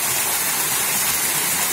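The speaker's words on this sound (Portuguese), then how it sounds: "essa é a cachoeira da barragem." Waterfall at the Fonte Grande dam in Hidrolândia, Bahia, a loud steady rushing roar of falling water, close and unbroken.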